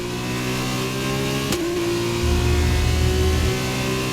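An F2 race car engine in a video game at Silverstone screams at high revs, then a sharp upshift about midway drops the pitch before it climbs again, loud and steady with no talk.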